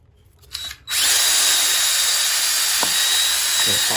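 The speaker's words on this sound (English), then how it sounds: "and finish drilling" A power drill runs loud and steady after a brief quieter start, a continuous high whine with a couple of short clicks near the end.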